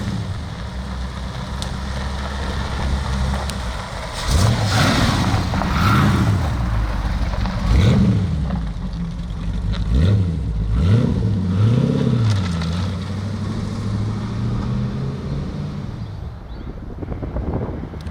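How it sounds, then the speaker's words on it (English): An AK Cobra replica sports car drives along with its engine note rising and falling through several revving accelerations, heard close over steady wind and road rumble; no talk. "let's take this lovely little AK Cobra for a drive"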